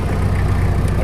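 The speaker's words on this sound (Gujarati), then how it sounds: "તમે ગાડી બંધ ના કરી" A motorcycle engine left running at idle, with a low steady throb that stays loud and constant through the whole short stretch and has no talk over it.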